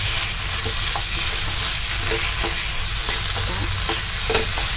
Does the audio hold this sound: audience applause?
no